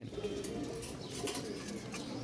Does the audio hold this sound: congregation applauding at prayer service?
no